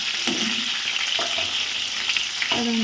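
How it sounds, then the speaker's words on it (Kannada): Green chillies and curry leaves frying in oil for a cabbage palya, a steady close sizzle with a few stirring scrapes, no talk. "ಅದೊಂಚೂರು ಎಣ್ಣೆಯಲ್ಲಿ ಫ್ರೈ ಆಗಬೇಕು"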